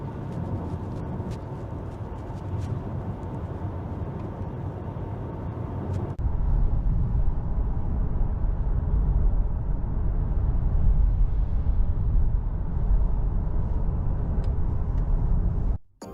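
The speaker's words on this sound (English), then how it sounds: "Let's go to BMW and check and compare the noise of the i5 sedan." A continuous low rumble of road and tyre noise fills the cabin of a BMW i5 sedan while it drives, steady and fairly loud, with a brief click partway through and no talking.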